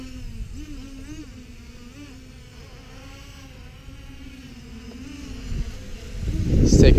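Buzzing motors of a 250-size FPV quadcopter on its maiden flight, a steady whining hum that holds level, then swells louder and rougher near the end as the throttle rises.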